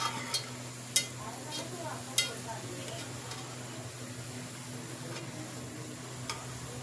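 Onions brown in a pan for keema biryani: a faint, steady sizzle under a low hum, punctuated by a few sharp, isolated taps of a spoon against the pan.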